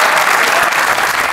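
Loud, steady studio audience applause on a Greek comedy game show, a thick, even wash of many clapping hands lasting just over a second.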